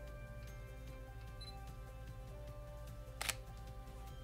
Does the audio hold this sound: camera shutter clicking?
yes